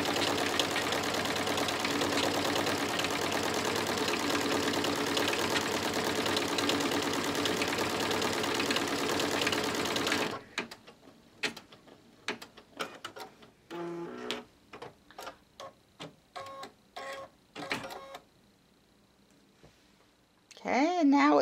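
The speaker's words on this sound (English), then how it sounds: "now it's going to stitch actually the coffee that's in the cup on color stop number" An embroidery machine stitches the coffee in a cup design on a mug rug, a dense steady mechanical whir for about ten seconds, then stops, leaving quiet clicks and brief taps with a short sound at the end.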